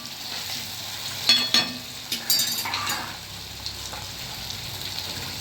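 Spices sizzle in hot oil with a steady hiss while cooking cluster beans and potato curry, as a spoon clinks and stirs in a few short bursts.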